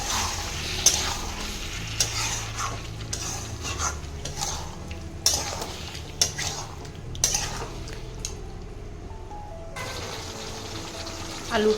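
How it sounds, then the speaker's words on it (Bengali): Potatoes fry with a little water in a home kitchen pan for a fish and potato curry, giving a steady sizzle under repeated metal scrapes and clinks from stirring. "আমি অল্প পরিমাণে জল দিয়ে এটা ভালো করে কষে নেব।"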